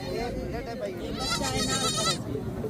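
A goat bleats at a livestock market in Dera Ghazi Khan, Punjab: one drawn-out, quavering bleat rises mid-way over a steady bed of crowd noise and nearby voices.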